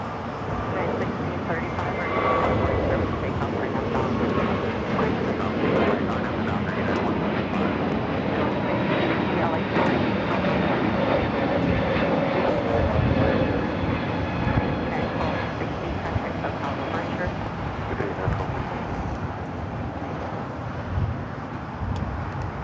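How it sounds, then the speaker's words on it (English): A United Airlines Airbus A321neo takes off at LAX, its engines producing a sustained broad roar that holds loud and steady throughout, with a person talking over it. "Next takeoff is that A321neo with United heading to Denver."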